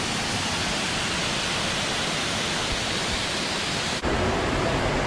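A waterfall roars as a dense, steady wash of rushing water that stays loud and unbroken throughout, with a brief dip near the end.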